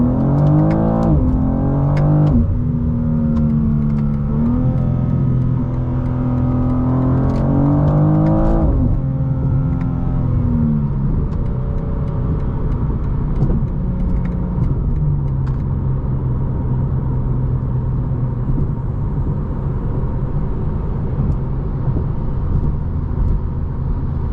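A 2026 BMW M2 CS engine revs hard under acceleration on a highway, loud and close from inside the car, pitch climbing through several gear changes before settling into a steady drone.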